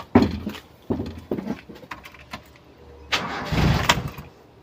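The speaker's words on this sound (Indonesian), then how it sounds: "Kita coba nyalakan dulu." A Toyota Kijang struggles to start, with several short cranking attempts and a stuttering, uneven engine catch toward the end, heard close up.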